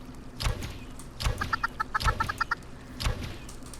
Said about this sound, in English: Stupid chickens.